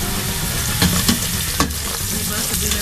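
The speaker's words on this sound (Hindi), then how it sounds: "बाकी इसके तड़के में ज़रा थोड़ा सा मैं भुना भी इसका लगा दूँगी।" A tadka of onions fries in hot oil in a pan for moong dal khichdi, giving a steady, close sizzle with a few soft stirring scrapes and clinks on top.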